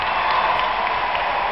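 Cheering and applause sound effect: a steady, loud wash of clapping and crowd noise that holds evenly for about a second and a half, then cuts off abruptly.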